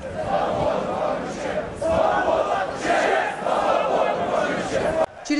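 Football fans at a street protest outside a regional police headquarters, a dense crowd of several hundred shouting chants in loud, rolling waves that nearly fill the scene, briefly cut near the end.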